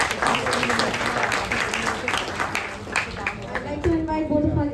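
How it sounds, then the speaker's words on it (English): Applause rises from an audience at a college entrepreneurship cell event, with chatter and voices mixed in as clapping fades and speech takes over near the end. "Let's give a round of applause to her."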